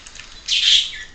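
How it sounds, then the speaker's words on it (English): A bird's bright, high chirping call bursts out once in the middle of an otherwise quiet moment, fairly close and clear, with no talking. "Sorry for the birds."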